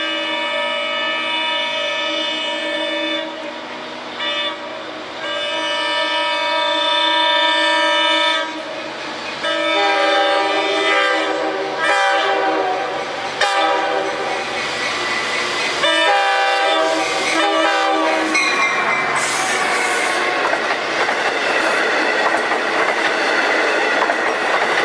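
A Long Island Rail Road train sounds a long, hoarse, wheezy horn, then pulls away with rising rumble and the clatter of wheels over the rails.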